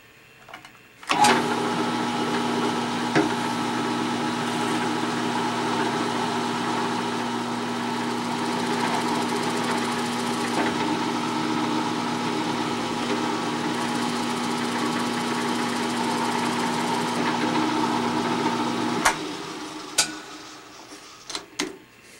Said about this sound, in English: Here we go with drilling the tap hole for the 540 thread with the number